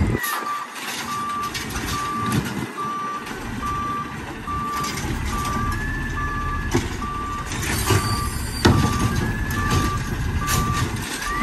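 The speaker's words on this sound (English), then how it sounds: "Beeper still on." A garbage truck's reversing beeper sounds in an even, repeating series of loud tones over the rumble of the truck's engine, with occasional hisses and clanks close by.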